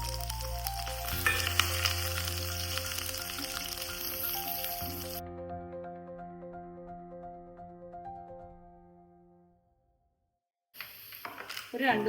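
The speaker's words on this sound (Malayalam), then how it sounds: "മുളകൊക്കെ ഒന്നായി വരുമ്പോൾ അതിലേക്ക് കുറച്ച് ഉള്ളിയും വെളുത്തുള്ളി ഇട്ട് കൊടുക്കാമേ" Onion and garlic fry in oil after red chillies and popping mustard seeds, a sizzle under steady tonal ringing that fades to near silence before a brief clatter returns; a pumpkin and bean erissery being cooked.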